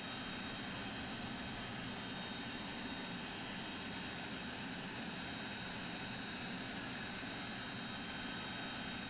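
An airliner taxis in Microsoft Flight Simulator, its jet engines giving a steady, even drone with a faint high whine, continuous and unchanging throughout.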